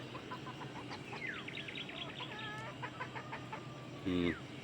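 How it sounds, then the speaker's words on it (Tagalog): Chickens cluck and chirp repeatedly at moderate distance, with a louder burst of squawking near the end over soft outdoor background noise. "Mga manok."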